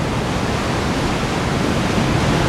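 A big set of ocean waves breaks at a surf slab, a steady, loud, broadband roar of crashing water with no pauses and no voices.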